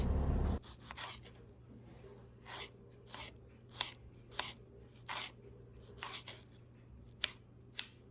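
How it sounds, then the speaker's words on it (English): A knife slices a ripe tomato into pieces on a board, irregular soft cuts and taps at close range against a low steady hum, no speech. "with these I'm going to turn it on the side and then cut it again in half"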